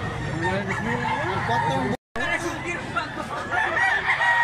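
A rooster crows repeatedly, loud and close, with other birds clucking and crowing around it and voices mixed in.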